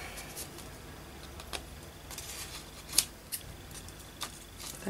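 Scissors cutting paper for a craft project: a few soft, sparse snips and light paper rustles, quiet and close, with no voices.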